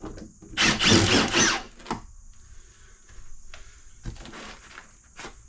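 A power drill backs screws out of a panel during a 12V RV fan installation, with a loud whirring burst followed by shorter, quieter drill pulses and handling clatter, close by with no talk.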